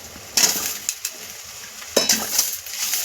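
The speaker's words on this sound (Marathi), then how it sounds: "टोमॅटो पण आपण 2 मिनिटं यामध्ये परतून घ्यायचे।" Chopped tomatoes added to browned onion in a pan for a village-style mutton masala, sizzling steadily while a spoon stirs with two bursts of scraping clinks.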